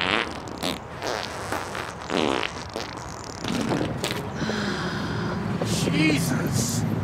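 A fart sound in a stage comedy sketch, a short buzzy blurt set among spoken lines and audience-room noise.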